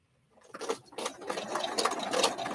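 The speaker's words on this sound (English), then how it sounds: "I hold it down with the first pin. Start slowly stitching around." A sewing machine stitches slowly around a pinned quilt, starting after a short silence and then running steadily with a fine rapid patter, fairly close and moderately loud.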